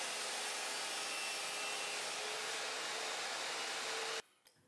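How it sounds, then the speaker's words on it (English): A DIY table saw rips a piece of board while fitted with a rip fence, giving a loud, steady roar of blade and wood for about four seconds before it cuts off abruptly into quiet. "I'm going to cut a piece of board to adjust the new fence cursor I've installed in the fence."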